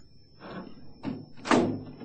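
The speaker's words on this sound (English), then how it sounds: "close the door behind you, Corby" A door pulled shut in a radio drama scene set at deserted wartime trenches, with a few soft knocks and shuffles followed by one heavier, louder thud of it closing, nearby and without talk.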